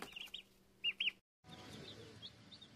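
Turkeys give a few short, high calls, clustered near the start with more spaced chirps afterward, faint and close against quiet outdoor background.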